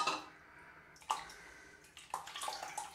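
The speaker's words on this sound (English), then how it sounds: "So let's get the brush in the water." A shaving brush dipped into water and lifted out, giving two short wet splashes about a second apart with soft dripping and trickling between them, close and fairly quiet.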